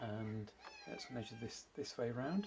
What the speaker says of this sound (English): Please excuse the cat meowing in the background.